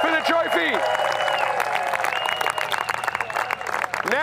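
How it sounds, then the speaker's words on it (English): Stadium crowd at the European Cricket Championship final, Netherlands against the United Kingdom, cheering and clapping in a steady, dense roar, with horn-like tones rising above and a voice talking through it. "So let's have one more big cheer for the European Cricket Network as we get ready for the trophy."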